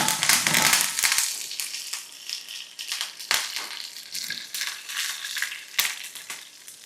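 Mustard seeds, dried red chilies and curry leaves sizzle and crackle in hot oil in a pan, with sharp popping spatters over a steady frying hiss.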